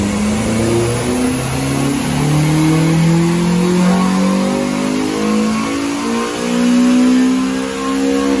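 A Honda Civic Type R FN2 engine revs on a tuning run, its pitch climbing steadily through repeated pulls with brief drops between, loud, close and sustained without talk.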